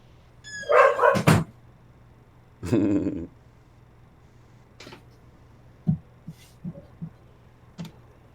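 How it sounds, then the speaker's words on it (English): Dogs bark indoors in a room with loud yapping bursts near the start and around the three-second mark, then scattered softer yips, paw thumps and movement noises. "My mom's dog Dakota was in here"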